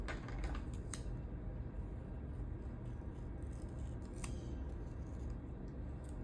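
Scissors trim coloured paper for a planner, a series of soft, quick snips and clicks close by over a quiet room background, with no talking.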